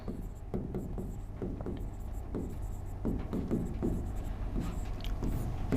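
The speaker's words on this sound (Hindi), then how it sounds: "सबसे पहले मैं 1 नंबर पर लिख रहा हूं डॉक्टर BR अम्बेडकर" Chalk or marker scratching steadily across a board during a lesson, a continuous run of strokes and taps with short pauses, close and clear, with no talking over it.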